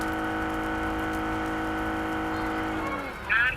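A car engine drones in a video game, holding a steady, buzzing harmonic whine that drops in pitch near the end before a brief higher burst cuts in.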